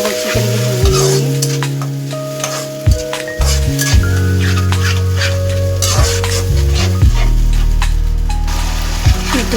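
Tomatoes fry in a pan for a raw banana curry, a loud continuous sizzle with repeated spatula stirring and scraping knocks close by.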